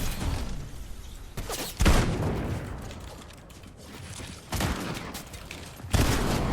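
Bursts of gunfire from a Fortnite Battle Royale match, loud and close, arriving in about four separate volleys with steadier crackling firing in between.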